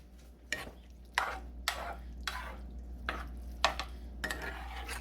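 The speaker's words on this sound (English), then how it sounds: "Mix it all together," Hamburger Helper Rice Oriental being stirred in a pan, a series of scraping, clattering strokes of a utensil against the pan at an uneven rhythm, close and fairly clear, with no talking.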